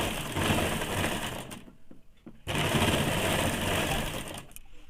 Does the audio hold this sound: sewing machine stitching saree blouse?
yes